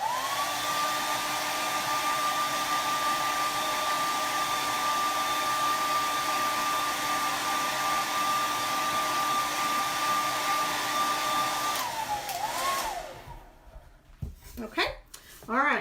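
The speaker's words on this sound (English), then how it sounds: "I'm going to hit it with the hairdryer real quick" A hair dryer blows steadily over wet paint on a painting, a loud continuous whir for about twelve seconds before switching off, followed by quieter handling sounds and a voice.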